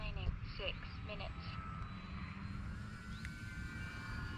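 An Arrows RC Tecnam model airplane flies at a distance, giving a thin, faint motor whine that drifts in pitch beneath voices.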